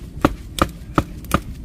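Bananas are being sliced for banana cue, with four evenly spaced knife chops striking a cutting board, crisp and close, and no voices.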